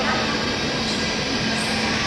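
Steady loud hum and whine of a Chinese high-speed train idling at a station platform, a broad mechanical roar with a low tonal drone underneath.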